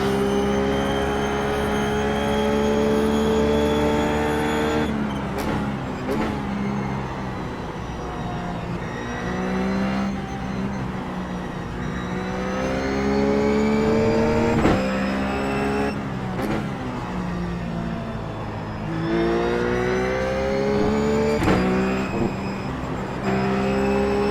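Ruf GT3 race car engine lapping Spa-Francorchamps in iRacing, a loud continuous howl rising and falling through gear changes for the whole stretch, with brief shifts and no voices.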